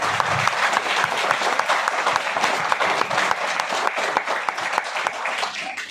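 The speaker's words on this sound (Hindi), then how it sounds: "परमात्मा के लिए जोरदार ताली होना चाहिए" Dense applause from a seminar audience at an RCM business event in Faridabad, many hands clapping loudly and steadily throughout with no voices on top.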